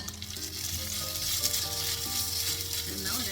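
Masala with fresh grated coconut fries in a hot pan for a mackerel (bangda) curry, giving a steady, close sizzle that holds evenly throughout with no voices over it.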